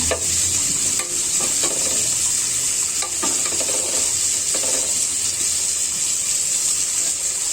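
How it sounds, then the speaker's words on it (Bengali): Pieces of rohu fish frying in oil in a pan, giving a loud continuous sizzle with occasional scraping and stirring clicks, close by and without talk. "মাছগুলো আমার প্রায় ভাজা হয়ে আসছে আরেকটু ভাজবো"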